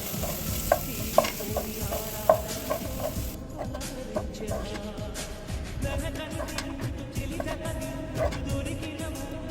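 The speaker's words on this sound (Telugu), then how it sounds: "తర్వాత ఉడికించిన అన్నం వేసి బాగా కలపాలి." A spoon stirs cooked rice and fried garlic paste in a pan, making close scraping and clinking strokes in an uneven rhythm over a soft, continuous sizzle.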